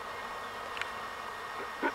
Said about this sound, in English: these bees over here, they seem to be going a little nutty too.